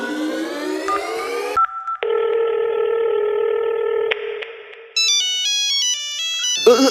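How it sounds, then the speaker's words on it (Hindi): A phone rings in an anime scene: a series of electronic tones and beeps, with a sustained ringing tone and then a rapid, high, multi-note ringtone melody, close and clear with no voices. "ये फोन की आवाज यहीं से क्यों आ रही है?"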